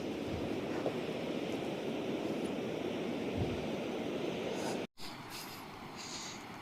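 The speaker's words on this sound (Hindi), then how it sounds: "ये पूरा शोर खाम गंगा का है" Steady broadband roar of the Kham Ganga river rushing below a mountain trail on the route from Chaumasi to Kedar, continuous and loud with wind mixed in, dropping out briefly near the end.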